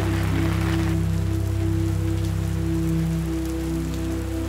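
Light rain patters steadily on a sailing yacht moored in a sheltered marina on the Baltic, a constant even drizzle with a low hum from the boat beneath it and no talking.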